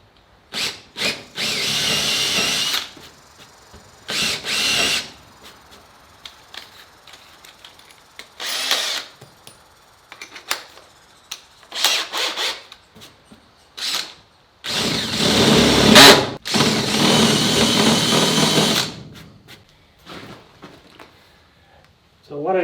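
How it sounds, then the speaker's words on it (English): A power drill bores into wood in several loud bursts of whirring and grinding, separated by pauses where someone speaks. "then I'm going to follow up with the larger drill"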